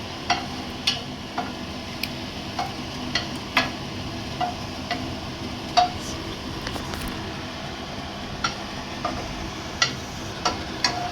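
Ingredients for tomato chutney frying in a pan, a soft steady sizzle punctuated by repeated clicks and taps of stirring, close up, with no speech.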